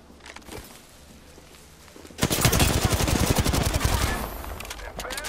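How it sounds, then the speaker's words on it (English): Rapid automatic gunfire in the shooter game Apex Legends: after a quiet lead-in with a few scattered shots, a sustained burst of loud fast shots lasts about two seconds and then tapers off. "I'm taking shots. Opening fire."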